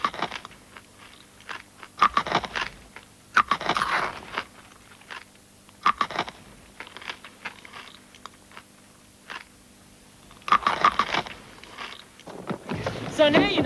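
Bites and chewing of a crunchy Violet Crumble honeycomb chocolate bar, a series of crisp crunching bursts close to the mic separated by quiet pauses.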